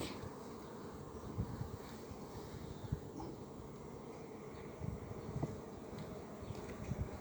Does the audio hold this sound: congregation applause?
no